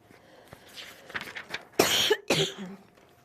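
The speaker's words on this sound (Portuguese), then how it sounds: "Se eu tossir, me perdoe." Two harsh, loud coughs in close succession after a stretch of quieter rustling and faint movement, close to the listener.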